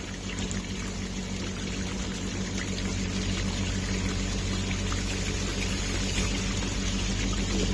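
A small RC car fitted with OGRC tires churns through water, giving a steady, close, continuous splashing and pouring wash over a low motor hum that runs the whole time without any talk.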